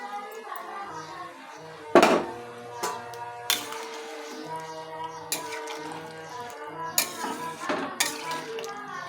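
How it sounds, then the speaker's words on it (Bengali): Shrimp going into a cooking pot, with clattering metal clinks and pot knocks scattered over several seconds and faint talk in the background. "তো আমি একবারে চিংড়িগুলো দিয়ে দিচ্ছি।"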